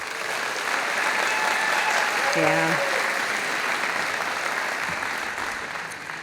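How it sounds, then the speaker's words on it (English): A large audience at Long Beach City College's State of the College event gives steady, full applause for Boys and Girls Club kids, many hands clapping continuously, with a brief voice and a short tonal sound rising midway. "how about another big round of applause for our amazing, brilliant Boys and Girls Club kids?"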